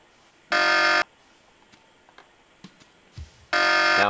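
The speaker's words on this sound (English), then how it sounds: "Sounds like I got that alarm turned off." An alarm buzzer in Tex Murphy: The Pandora Directive sounds two loud, harsh half-second blasts about three seconds apart, with faint clicks and small noises in between.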